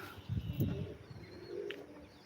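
Pigeons give soft, low coos in a brief cluster, faint and somewhat close, followed by a quieter murmur and light background rustle.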